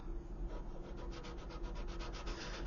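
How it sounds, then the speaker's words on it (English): Medium-to-fine grit sanding stick lightly rubbed over a 1/200 scale model ship superstructure, giving soft, rapid, rhythmic scratchy strokes, close and quiet with no talking. "either a sanding stick again, and I want to go with something fairly medium grit or lighter, and just very lightly go over this again."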